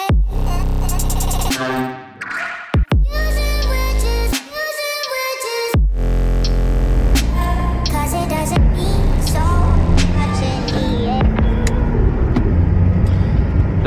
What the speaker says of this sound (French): vous mettre un tour embarqué un peu chrono avec Romain au volant qui sera bien plus efficace que moi dans sa GT3 et ensuite dans la GT3 RS